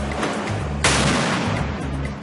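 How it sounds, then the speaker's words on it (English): Rubber bullets and stun grenades fired by police at Molotov-throwing riot protesters in Brazil in 2014, amid tear gas: a single sudden loud blast cuts through a steady, rumbling crowd-noise background. "The police engaged Molotov cocktail throwing protesters with rubber bullets"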